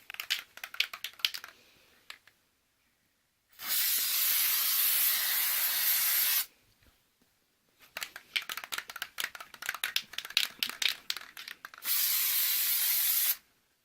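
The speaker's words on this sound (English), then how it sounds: "that spray that I got was actually an adhesive and not a sealant" Adhesive spray can sprayed in two long, loud hissing bursts, with clicking and rustling handling noises between them.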